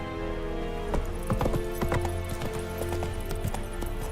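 Hooves of Roach, Geralt's horse in the video game The Witcher 3, beat out a quick, rhythmic clip-clop at a gallop, close and steady over a faint ambient game soundtrack.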